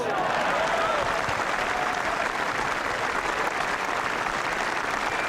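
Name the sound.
crowd cheering and applauding at golf tournament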